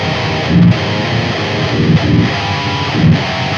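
Heavily distorted metal guitar played through a speaker cabinet impulse response, dense chugging chords with short palm-muted accents, loud and constant with no voices.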